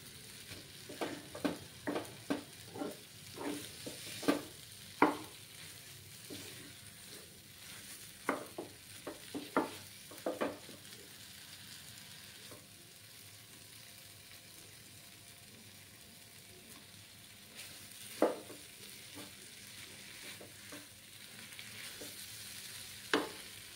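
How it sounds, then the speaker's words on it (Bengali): Palm sandesh mixture stirred in a pan as it thickens and turns sticky, giving a run of distinct scraping and tapping strokes of the spatula, clustered irregularly with quieter pauses between, close by and alone. "আরও কিছুক্ষণ আমি নাড়াচাড়া করব।"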